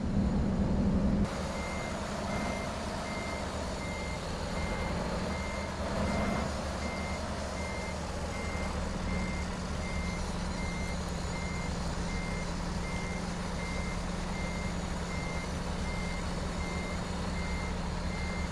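Steady, evenly spaced reversing beeps from a truck backing in with cargo in American Truck Simulator, repeating for about 17 seconds over a constant low engine rumble, with no talk.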